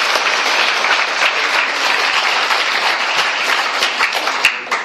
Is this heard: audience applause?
yes